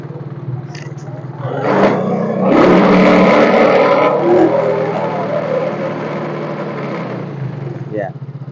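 A Yamaha Mio Fino fuel-injected motorcycle with a stuttering, stalling fault idles, then its engine is revved hard for a couple of seconds and held high before slowly dropping back toward idle, loud and close.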